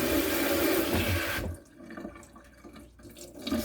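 Tap water runs loudly and steadily while an AirNet topper is rinsed, then cuts to a quieter, softer flow with faint drips and splashing near the end.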